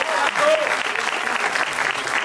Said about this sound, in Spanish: Un aplauso, por favor, para él.